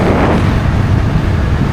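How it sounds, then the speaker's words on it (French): Wind buffeting a microphone while riding an electric scooter through a city with the helmet visor open, a loud, steady rushing roar filling the whole clip with no voices. "Et du vent quand même hein."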